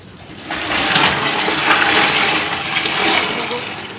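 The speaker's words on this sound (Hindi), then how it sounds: "पानी आ गया, मोटर खोलते हैं अब।" Water from an electric pump at a home gushes out, a loud, broad rushing and splashing that starts abruptly after a short quiet moment and keeps pouring steadily close by.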